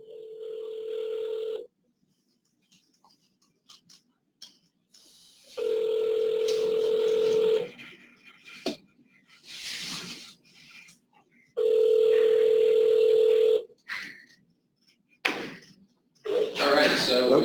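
Telephone call tones: a steady dial or ringback tone sounds in three long bursts, separated by quiet gaps with brief talk and clatter, followed by voices at the end.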